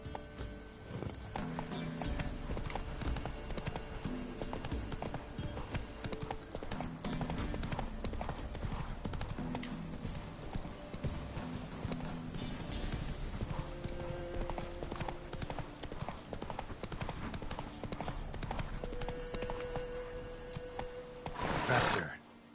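The horse Roach gallops in the video game The Witcher 3, a steady rhythmic clip-clop of hooves throughout, with a loud neigh near the end.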